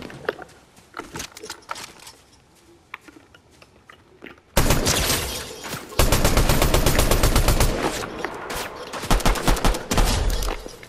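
Video game gunfire starts as scattered faint shots, then erupts into loud, sustained rapid bursts of automatic fire with a few short pauses, close and dense.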